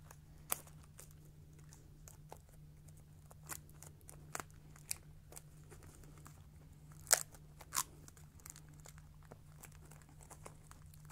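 Bobby pin piercing the plastic shrink wrap on a DVD set, a few sparse, quiet crinkling snaps and crackles scattered over a low steady hum.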